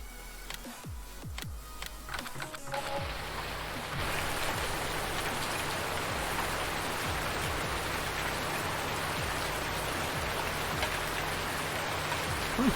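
Steady heavy rain in Farming Simulator 19 on Oakfield Farm, a dense continuous hiss filling the whole clip, with a few clicks and knocks at the start before the downpour settles in loud and unbroken.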